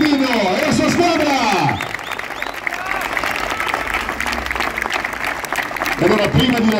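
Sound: audience applause for the Genoa coaching staff

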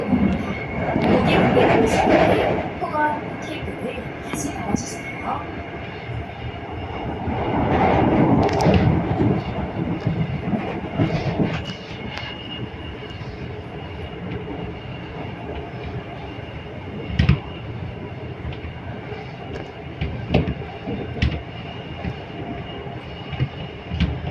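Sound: Gwangju Metro 1000 series subway train running sound

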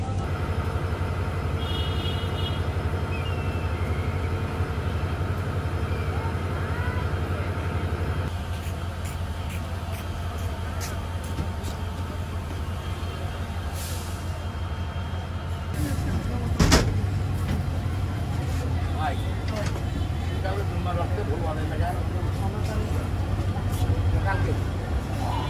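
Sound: Korotoa Express train departing Bamondanga station

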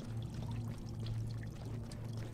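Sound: water pouring from a burst pipe in a video game

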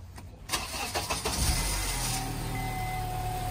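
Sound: car engine starting after reconnecting battery terminal

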